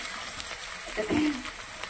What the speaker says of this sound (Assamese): এতিয়া তেল দি প্ৰথমতে পিঁয়াজখিনি অলপ দি দিছোঁ।